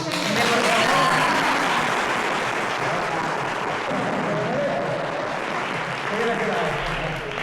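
Audience applause at a Spanish-language reading or performance event, a dense steady wash of clapping sustained throughout with voices mixed in underneath.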